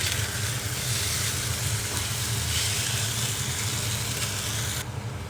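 Cornflour slurry being stirred into bottle gourd manchurian in a hot pan, a steady bubbling sizzle with continuous stirring scrapes throughout, fairly close, cutting off abruptly at the end.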